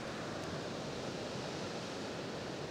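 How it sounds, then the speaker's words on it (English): Ocean waves crash against rocks along an overcast coast at Patrick's Point State Park, forming a steady, dense wash of surf with no distinct breaks and no voices. "The ocean crashing up against the rocks is like the most calming sound ever."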